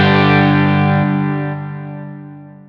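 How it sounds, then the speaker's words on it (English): A loud distorted electric guitar chord played through a Line 6 Helix rings out, then its reverb and delay tails hang on and fade smoothly after the amp sound drops away. "you'll notice that the reverb and the delay continue on after the fact"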